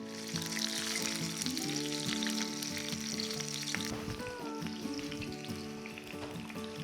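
Chicken pieces tossed in hot ghee sizzle and fry steadily, a dense crackle that holds loud and close throughout, with faint clinks and tonal hum underneath and no voices.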